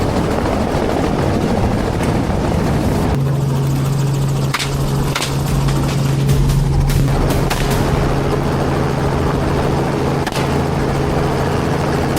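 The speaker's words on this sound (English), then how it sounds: "The helicopter continues its patrol." A patrolling helicopter flying low passes as a loud, continuous rotor roar, with a steady engine drone and a few sharp bangs breaking through.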